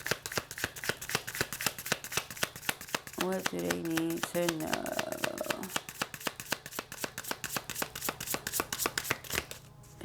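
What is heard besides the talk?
shuffling tarot cards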